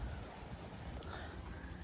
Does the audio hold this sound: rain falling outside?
yes